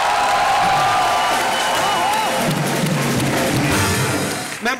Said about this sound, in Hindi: एक बार जोरदार तालियां हरिहर साहब और रेखा जी के लिए.